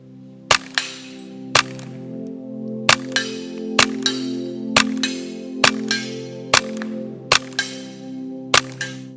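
A Fletcher Rifle Works 1122 rifle fires nine sharp, loud shots at a steady pace of about one per second, each crack followed by a short ringing tail.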